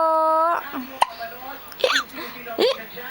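A one-month-old baby hiccups in short sharp bursts, three or four quick catches spaced across a few seconds, close by, following an opening tonal sound.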